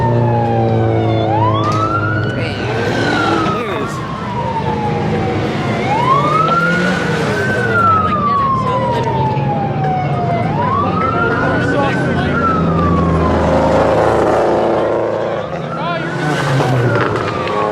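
A busy street at a car event, with cars and traffic rumbling and a siren wailing up and down repeatedly, loud and continuous throughout.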